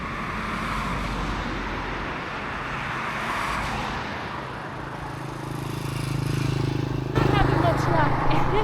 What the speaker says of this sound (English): That's a stop. The bus.